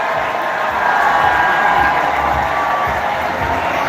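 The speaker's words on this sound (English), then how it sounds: "Well, they're cheering." A large crowd cheers and claps outside a Zohran Mamdani rally during the 2025 New York City mayoral election. The sound is a loud, continuous, close wash of cheering with scattered voices mixed in.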